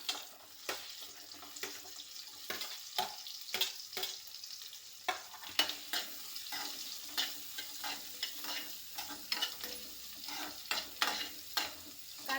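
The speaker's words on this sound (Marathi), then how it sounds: "कांदे भाजून घेऊ." Onions frying in hot oil in a wok, with repeated scraping stirs of a spatula coming in irregular bursts over a soft continuous sizzle, close and fairly quiet.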